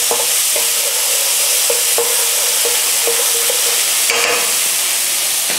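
Garlic ginger paste fries in a hot pan with a steady loud sizzle, punctuated by several clicking stirs of a utensil against the pan, close up and with no talking.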